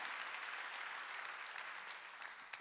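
Congregation clapping during a Wednesday worship service at a Korean church, a steady wash of applause that carries through and tapers slightly at the close.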